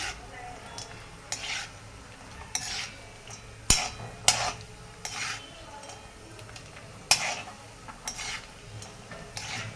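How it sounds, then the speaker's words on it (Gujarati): Dry fruits frying in ghee in a pan over a low flame: a quiet, low sizzle under intermittent stirring scrapes, with a few sharp clinks of a spoon against the pan. "ડ્રાયફ્રૂટ આપણે ઘીમાં આપણે ધીમા ગેસે તરી લેવું"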